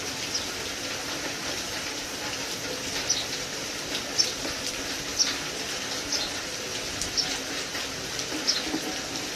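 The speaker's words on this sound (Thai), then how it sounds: "ฝนตกแล้วค่ะ" Rain falls steadily on a rice field during a storm in Thailand, a dense, even hiss with a few faint, scattered taps and no talk.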